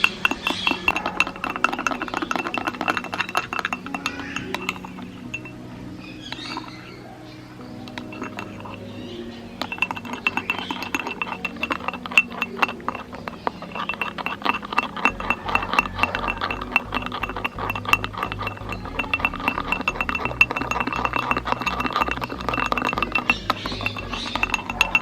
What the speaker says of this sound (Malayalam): ഇങ്ങനെ പഞ്ചസാരയും ആ വെള്ളവും അതുപോലെ തന്നെ നമ്മുടെ ഈ കാപ്പിപ്പൊടിയും കൂടി ഇങ്ങനെ മിക്സ് ചെയ്തുകൊണ്ടേ